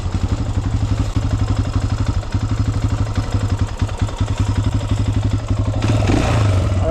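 A Honda 400ex quad with a lean carburetor, its engine running close by in a steady, rapid thumping idle that rises slightly toward the end.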